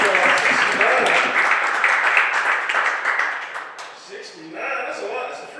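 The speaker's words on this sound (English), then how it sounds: "give a round of applause for her" Audience applause and clapping fill a comedy show, loud and dense at first, then thinning out, with a voice talking over it near the end.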